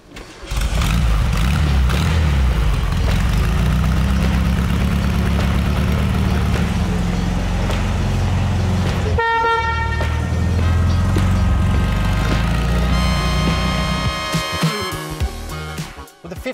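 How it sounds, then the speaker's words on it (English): A small rear-mounted 1500cc 40-kilowatt air-cooled car engine rumbles steadily and loud up close, with a brief horn-like toot midway and a rev near the end before it cuts off. "the 1500cc 40 kilowatt air-cooled engine hanging out the back"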